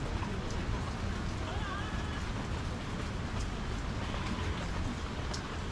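Rain pours steadily with a constant rushing hiss and occasional louder drips, while a faint voice murmurs somewhere underneath.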